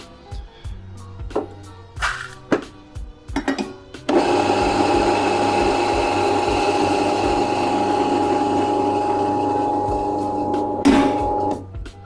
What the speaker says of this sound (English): We are going to grind 15 grams. 15 grams of coffee is what I use.